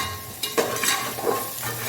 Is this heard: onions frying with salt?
yes